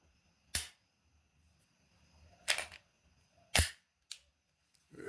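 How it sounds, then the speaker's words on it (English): A handgun's slide is racked and released several times, each one a sharp, close metallic snap separated by quiet pauses, with four distinct clacks and a fainter click. "Let it rack out."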